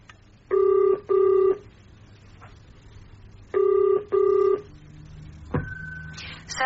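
A telephone rings in pairs of short electronic trills on a British phone line, two double bursts separated by a pause, followed by a click and faint line tone.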